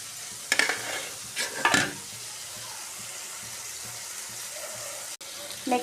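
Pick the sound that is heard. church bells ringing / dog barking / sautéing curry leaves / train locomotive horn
sautéing curry leaves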